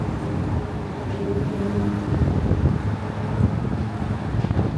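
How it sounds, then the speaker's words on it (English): Strong wind buffets the microphone during a walk toward Astoria Park in Queens, producing a constant low roar and rumble with gusty surges and no voices. "Yeah, it's very windy."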